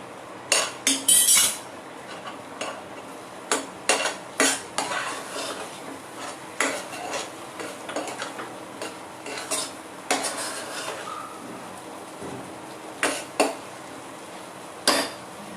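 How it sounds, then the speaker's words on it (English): Food sautéing in a thick-bottomed pan, with sharp metallic scrapes and clanks of a utensil striking the pan in irregular bursts over a low sizzle, close and loud, no talking. "So saute it well, this very well."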